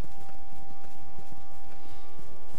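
Horse hooves clip-clopping in the Lord of the Rings Online video game, a steady even trot of hoofbeats heard under a constant loud musical drone.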